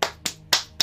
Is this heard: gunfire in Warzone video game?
no